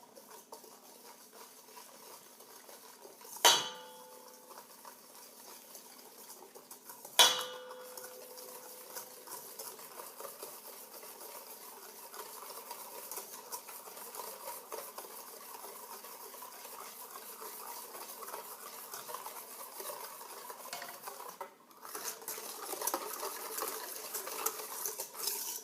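Eggs being whisked in a bowl as hot milk mixture is ladled in to temper them for homemade ice cream, with steady close whisk clatter throughout and two sharp metallic clinks early on.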